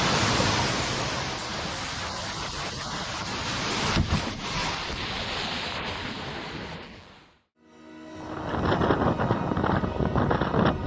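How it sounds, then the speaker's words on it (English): Massive waves crashing hard against a pier, a loud, roaring broadband surge with heavy thuds, a brief lull, then another thundering wash, heard alone without voices. "Massive waves are crashing hard, like they are about to swallow the pier."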